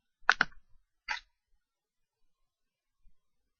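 A few crisp computer mouse clicks, two in quick succession and then a single click, close and clear against near silence.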